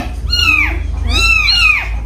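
Two drawn-out meows from cats, the first falling away and the second rising then sliding down, heard close over a steady low background hum.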